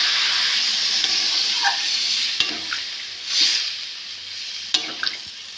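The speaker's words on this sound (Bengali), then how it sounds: "পোস্ত দিয়ে নেড়ে চেড়ে জল দিয়ে দেবো" Poppy seed paste cooked with ridge gourd, stirred in a hot pan: a loud steady hiss and sizzle with occasional spatula knocks and scrapes, close up and without voices.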